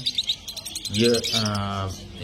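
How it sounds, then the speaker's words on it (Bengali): Lovebirds chirp in quick, bright bursts at the Garia bird market, clearest at the start, then partly covered as a voice talks nearby. "খুব সুন্দর সুন্দর পাখি আছে, এর মধ্যে ফিশার, লুটিনো অফলাইন"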